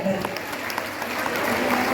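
Sustained applause from a crowd at a women's awards ceremony, clapping steadily throughout, with some voices under it.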